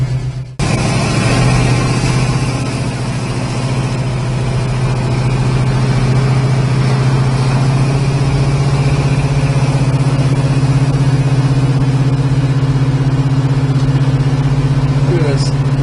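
Engine of a 1963 Chevrolet Nova while driving, a strong, steady low drone that stays close and loud for the full stretch after a brief opening bump.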